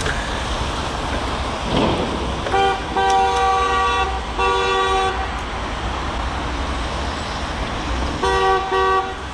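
Car horn honks in Romanian street traffic, sounding in three bursts of a few seconds each over steady road and engine noise, loud and nearby with no talking.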